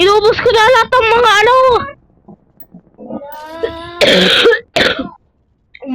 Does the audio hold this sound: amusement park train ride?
no